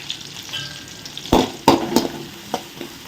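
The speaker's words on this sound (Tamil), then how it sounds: "பச்சை மிளகாய், இஞ்சி, பூண்டு எல்லாமே பொடியாக நறுக்கி வச்சுருக்கேன். எல்லாத்தையும் போட்டு நம்ம வதக்கலாம்." Chopped green chilli, ginger and garlic sautéing in hot oil in a pan, with a steady sizzle broken by several sharp clanks and scrapes of a spoon stirring.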